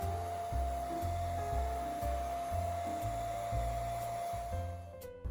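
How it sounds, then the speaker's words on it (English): A steady hair dryer whirs continuously, its motor pitch pulsing slightly as it is moved around, fairly close and with no talking. "I'm going to use a hairdryer to dry them off"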